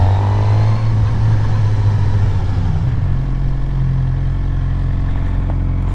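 A motorcycle engine pulls hard in second gear on a beginner's practice ride, a loud, steady mid-range drone that climbs in pitch and then shifts to a lower, steadier note about halfway through.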